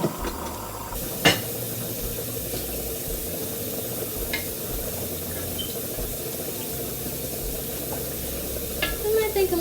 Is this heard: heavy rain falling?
no